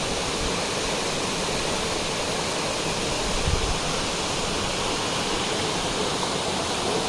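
Water in a stream rushes in a constant, even hiss and roar, unbroken and fairly close, with no voices.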